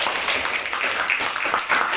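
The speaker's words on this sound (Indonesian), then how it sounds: "Kasih tepuk tangan dulu untuk kelompok" A classroom of students claps for a student group, a brief burst of steady, fairly close applause with no voices over it.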